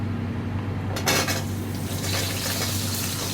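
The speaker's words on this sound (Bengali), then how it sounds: "আমি একটু ফোড়নের সাথে ভেজে নিচ্ছি" Potatoes, carrots and other vegetables fry with tempering spices in a pan for broken-wheat khichuri, a steady close sizzle joined by a sharper burst of metal-on-pan stirring partway through.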